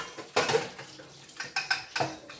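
Dishes and pots clatter in a kitchen sink during a busy morning's chores, with sharp clinks of metal and crockery in irregular bursts over faint running water, close by and moderately loud.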